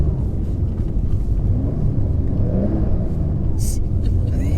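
Porsche 993 rally car on spiked tires sliding sideways across ice, engine rumbling loud and steady throughout as it drifts, with no pauses.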